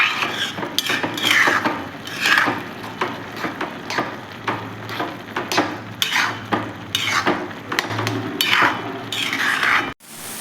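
A spoon scrapes and clanks against a metal pan while carrot halwa made without khoa is stirred, in close, repeated irregular strokes with no talking.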